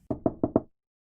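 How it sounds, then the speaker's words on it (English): A policeman knocking at a home's door: four quick, firm knocks sound close and clear in an even rhythm, followed by silence. "one of the policemen was knocking at my door."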